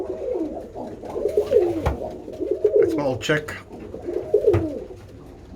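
Birmingham Roller pigeons, yearlings and old birds, coo in repeated soft rolling phrases close by, with someone speaking briefly between the calls.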